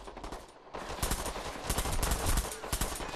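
Rapid automatic gunfire in the online shooter Bullet Run crackles in dense bursts, the bursts grouped and close, with no talk over them.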